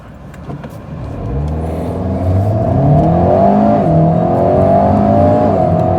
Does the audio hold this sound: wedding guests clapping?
no